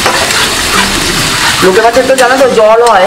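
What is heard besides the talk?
frying Bombay duck fish with garlic, ginger and chili paste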